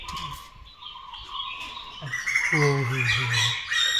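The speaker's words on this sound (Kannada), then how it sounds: "ಇವಾಗ ಪಕ್ಷಿಗಳು ಎಲ್ಲ ಹಾರೋಯ್ತು ನೋಡಿ" Birds squawk and chirp close by in a noisy burst, the calls growing louder and more layered toward the end.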